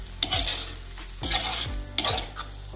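Aloo methi curry of potatoes and fenugreek leaves sizzles in a pan as a spoon stirs it in three scraping sweeps over a constant close frying hiss.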